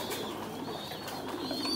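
Pigeons on a pigeon farm keep up a low, continuous cooing, a soft murmur that stays steady and moderately close throughout, with no talking.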